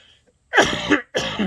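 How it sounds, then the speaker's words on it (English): Two harsh, close coughs in quick succession, the first longer and the second cut short, with quiet before them. "I will, pardon me, cough a little bit"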